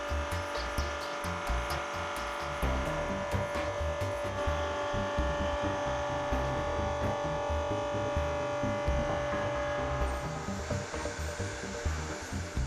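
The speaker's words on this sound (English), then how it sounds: "switch the feed motor on and use the grey rotary knob to set the feed rate so that the machine is slowly fed into the material" A BDS AUTOCUT500 milling machine runs with both its milling and feed motors engaged, giving a steady, loud motorized hum with a throbbing low rumble and a constant tone, continuing unbroken throughout.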